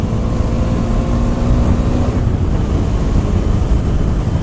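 A 2018 KTM 390 Duke is ridden hard, its engine tone buried in loud, steady wind rush across the microphone, with a faint engine hum fading early on.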